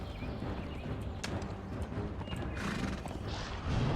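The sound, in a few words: horse neighing and hooves in video game Conan Exiles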